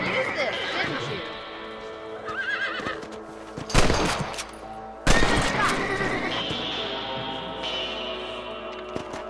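Two sharp, loud rifle shots a second apart in the Western video game Red Dead Redemption, fired while hunting rabbits, heard among horse whinnies and nearby talk.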